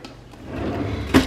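A drawer in a home nail room slides open close by, a short wooden rumble ending in a sharp knock, heard alone.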